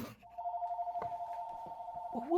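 A telephone rings nearby on a workbench, one long steady electronic trill lasting about two seconds, with small clicks and a voice breaking in at the end.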